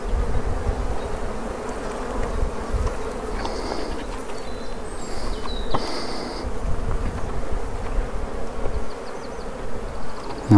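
A dense, steady drone of many honeybees buzzing close by as a frame is shaken into the hive, continuous and fairly loud, with a few sharper individual buzzes passing near.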